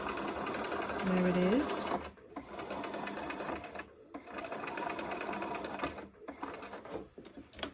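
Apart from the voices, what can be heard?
sewing machine stitching gathering rows on a dress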